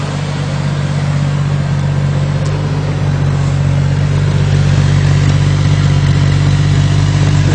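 A Jeep straight-six engine fitted with a fuel vaporizer runs steadily at the exhaust, a loud, even, low idle rumble that holds unchanged throughout with no other sounds.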